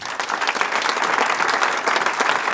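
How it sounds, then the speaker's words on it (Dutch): Applause from an audience at a Venray business event, brisk continuous clapping from a modest crowd, close and steady. "Groot applaus voor Peter."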